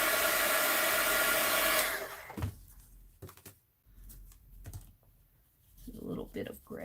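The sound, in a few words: heat tool heating paint on artwork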